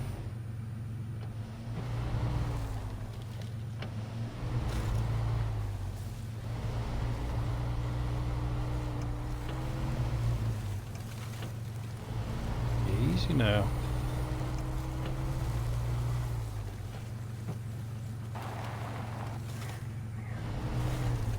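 Steady low truck engine drone in SnowRunner as the truck rolls down a steep hill, with raised suspension, holding an even rumble throughout, and someone speaks briefly over it.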